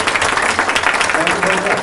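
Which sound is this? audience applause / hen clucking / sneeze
audience applause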